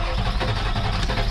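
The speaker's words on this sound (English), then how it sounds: "Okay, crank it." A diesel engine from a 1988 high-horsepower S360 build cranks over after the glow plugs are heated, giving a steady, loud, dense churning up close for about a second.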